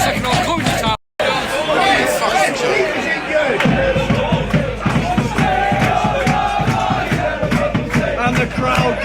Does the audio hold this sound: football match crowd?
yes